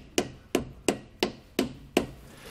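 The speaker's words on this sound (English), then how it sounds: "If you're using a rubber mallet or a dead blow, you can just tap on the face like this" A rubber mallet or dead blow hammer taps a Kodiak trailer disc brake part into place on the axle of a 2020 Grand Design Momentum: six evenly spaced, sharp knocks, close and fairly loud, with no talking.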